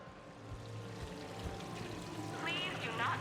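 A decorative waterfall fountain in the Mass Effect 3 casino gala pours steadily in a continuous wash of running water, with low murmuring voices and ambient hum beneath it.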